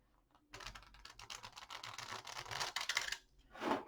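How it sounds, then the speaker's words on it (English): A deck of oracle cards being shuffled close up, a continuous rapid riffling patter for about three seconds, then a short separate rustle at the end. "let's get these shuffled again real good"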